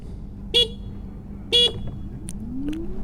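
Two short, bright horn beeps about a second apart from a 2025 TVS Orbiter electric scooter, over a steady hum, with faint extra chirps near the end.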